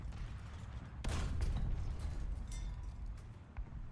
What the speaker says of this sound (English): I think I'm just shelling, like, the village.